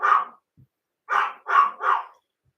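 A dog barks loudly and close by: one sharp bark, a short pause, then three quick barks in a row, with silence between them.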